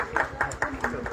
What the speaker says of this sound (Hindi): आपकी जोरदार तालियां इस मोनी के लिए